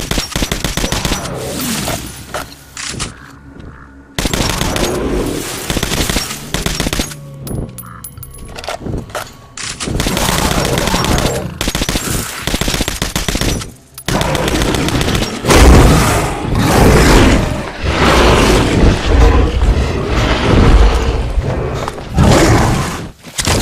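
Rapid bursts of gunfire aimed at an enemy in the video game Metro: Last Night, loud and sustained, with brief gaps of near silence breaking up repeated automatic volleys.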